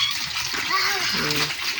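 Laundry rinsed by hand in a basin of water, steady sloshing and splashing with a voice talking over it.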